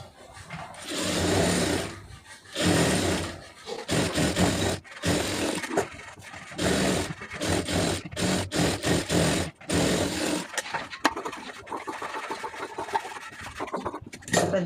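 A sewing machine stitches along the edge of a blouse lining in short bursts of fast whirring, broken by pauses, with softer rubbing of fabric near the end.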